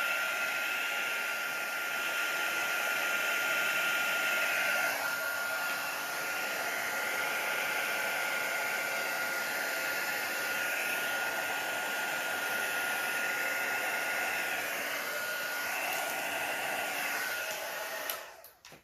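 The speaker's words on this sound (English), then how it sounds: "I'm going to use my blower to just see if I can get some kind of effect happening." A blower blows a steady, loud, close whooshing hiss over epoxy resin to push it into waves, running unbroken for most of the time before cutting off at the end.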